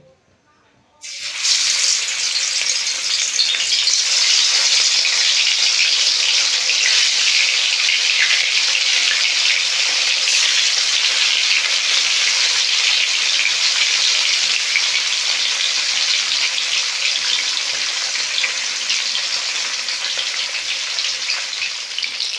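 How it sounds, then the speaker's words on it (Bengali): Pieces of katla fish sizzle steadily in hot oil in a kadai, a loud, continuous broadband frying hiss that starts abruptly after a quiet second and holds unbroken to the end. "তার জন্য এখানে কড়া বসিয়েছি, তেল দিয়েছি, গরম হয়ে গেছে তেল। একে একে আমি মাছগুলো"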